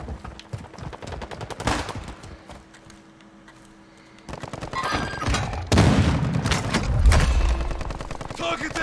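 Gunfire in the video game Warzone 2.0, bursts of rapid shots in loud clusters with a brief lull between them, mixed with other game sounds.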